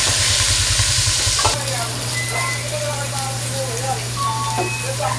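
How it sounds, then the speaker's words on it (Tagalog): Pork liver frying and sizzling in a pan while being stirred, cooked first before sautéing pork menudo; a steady loud sizzle with scraping stirs and some talk over it. "ipapry muna natin yung ating atay"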